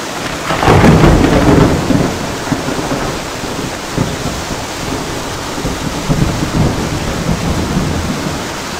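Loud thunderstorm with heavy rain, a strong roll of thunder early on fading into a dense, steady hiss of rain with further low rumbles, no voices.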